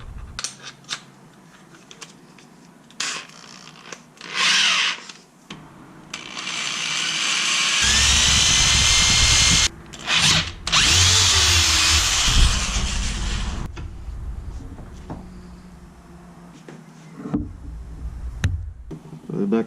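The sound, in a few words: power drill with 3/8 drill bit drilling through shaft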